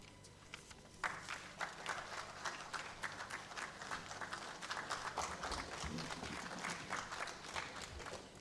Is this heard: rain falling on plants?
no